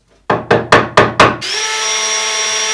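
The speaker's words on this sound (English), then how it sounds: "pre-drilling, countersinking, and screwing them in." Wooden cladding on a loft storage bed being fixed: five sharp, evenly spaced knocks on the boards, then a steady, loud whir from a power drill running on without a break.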